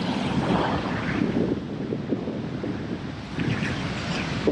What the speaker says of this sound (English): Yeah, in this wind, how's it staying there?